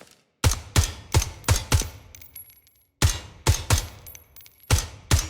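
Bursts of loud gunfire in two rapid volleys separated by a short pause, with metallic pings and ringing bullet ricochets in between, no speech, in the video game Ground Branch.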